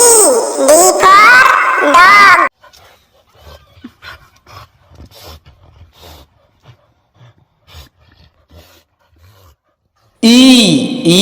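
A dog panting and whimpering for a children's alphabet song, soft rapid breaths and small whines between louder bursts of bright music at the start and end.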